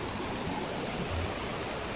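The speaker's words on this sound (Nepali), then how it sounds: "देख सकते हो गाइस, त्रिशूली खोला।" The Trishuli river flowing, a steady broadband rush of moving water that holds even and unbroken, moderately loud, with no voices.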